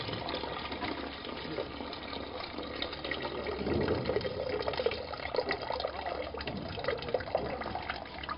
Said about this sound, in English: Pouring cold water into the system forces the heated water through for collection.